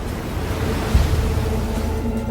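Stormy sea waves crash and surge against a ship in a continuous loud roar of water and wind, with a heavier wash about a second in.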